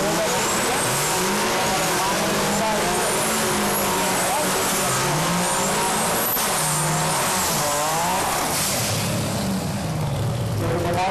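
A BMW 3 Series E36 race car engine revs hard at a racing event, loud continuous rising and falling engine pitch throughout, with a commentator talking over it.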